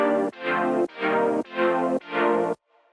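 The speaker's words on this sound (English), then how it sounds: "he throws in these lush sounding chords that sound like this" Five lush, sustained synth chords pulse in an even rhythm, bright and full, with a short pause between each before the sound cuts to near silence.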